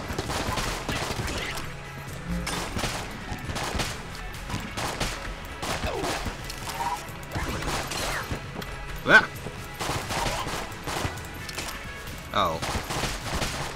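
Zombie enemies in Enter the Gungeon fire bullets, giving rapid, steady bursts of gunfire that run throughout amid busy game effects, with a sharp impact near the middle and a player exclaiming briefly.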